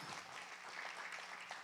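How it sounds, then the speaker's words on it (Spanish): A church congregation applauds, a steady dense wash of clapping heard faintly from a distance, with no voices standing out. "Dale un fuerte aplauso al Señor."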